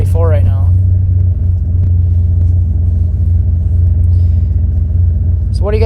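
Steady low engine drone and road rumble from a vehicle being driven slowly, loud and continuous throughout, with brief voice sounds at the start and end.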